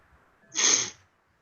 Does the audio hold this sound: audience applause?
no